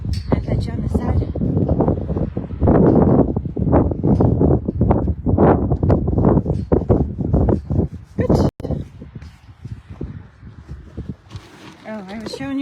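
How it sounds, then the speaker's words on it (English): Strong wind buffeting the microphone outdoors on a ranch among horses, loud gusty rumble running under a person talking throughout. "But the wind's really bad now."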